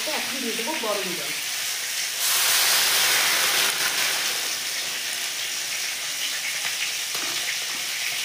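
Hot water poured into a pan of masala and elephant foot yam, a brief watery splash and rush of hissing steam that settles into a steady loud sizzle and bubbling close by.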